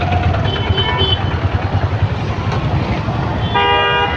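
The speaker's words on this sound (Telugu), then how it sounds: "హారన్ కొట్టినా కానీ కదలరు కూడా కదలరు." Vehicle horns honk repeatedly in a congested road traffic jam, several short and sustained toots over a rumbling engine and traffic noise close by.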